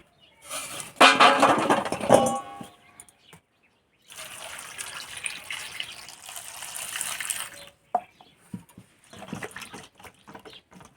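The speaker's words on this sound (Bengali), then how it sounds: "এবার টমেটোগুলো ধুয়ে কেটে নেবো" Tomatoes are washed under a running kitchen tap, close splashing and gushing water in separate bursts with short pauses between them, and no talking.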